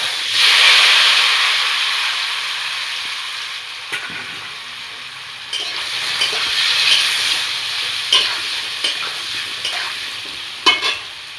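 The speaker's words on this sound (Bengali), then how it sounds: "আমার আলু ভাজা তেলে এবার আমি ওলগুলো ভেজে নেব।" Pieces of elephant foot yam fry in oil already used for potatoes, cooked for a rohu fish curry. A loud, steady sizzle and hiss fills the clip, broken by a few light clinks from stirring.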